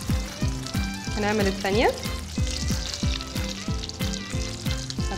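Toast bread fries in melted butter in a pan, giving a steady close sizzle and crackle. A voice speaks briefly over it, and there are bursts of soft rhythmic scraping.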